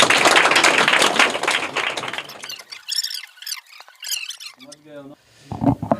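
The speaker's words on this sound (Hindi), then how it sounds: "करेक्ट आंसर है, जोरदार तालियां इनके लिए" A crowd claps for a correct quiz answer, giving a dense, loud burst of applause that fades after about two seconds, followed by scattered squeaky voices and talk.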